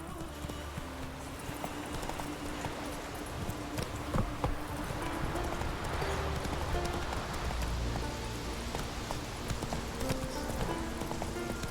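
A horse gallops through snowy Skellige in a video game, its steady rapid hoofbeats running throughout over a continuous bed of background music.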